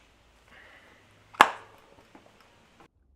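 A tubeless bicycle tire bead seats onto the rim with one sharp, sudden pop, preceded by a faint hiss and followed by a few soft ticks in quiet surroundings.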